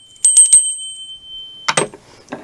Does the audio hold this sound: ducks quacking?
no